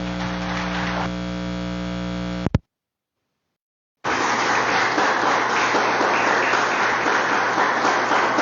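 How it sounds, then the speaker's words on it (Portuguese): Congregation in a church service breaks into applause, a dense continuous clapping wash after a brief gap of silence, preceded by a sustained tonal musical chord. "Que as palmas louvam o nome do Senhor"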